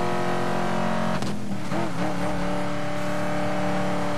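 Race car crossing the finish line in first place at over 100 mph in Need for Speed Most Wanted, a steady high engine drone with a brief surge and shifting whine partway through, loud and continuous.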